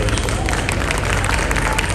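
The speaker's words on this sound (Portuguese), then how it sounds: "Uma salva de palmas" A live audience at a cultural event applauds a guest who has just been introduced, with dense, steady clapping and some crowd noise filling the whole moment at close range.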